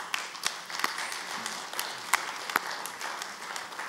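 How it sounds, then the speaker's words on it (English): An audience applauds at an awards ceremony, fairly faint and distant, with scattered sharper claps standing out against a soft wash of clapping. "We applaud all of you."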